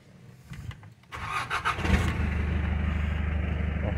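A turbocharged Mitsubishi Strada pickup engine cranks with a few uneven turns, catches after about a second and settles into a steady, close rumbling idle.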